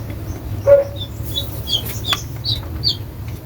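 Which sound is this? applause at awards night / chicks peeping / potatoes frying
chicks peeping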